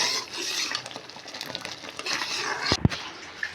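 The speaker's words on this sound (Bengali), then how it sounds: "এবার কড়াইয়ের মধ্যে আমি এইটাকে দিয়ে ভালো করে মিশিয়ে নেব।" Thick mango pulp for mango sotto stirred in a kadai: continuous wet, sticky scraping of a spatula against the wok, close up, ending in a sharp knock.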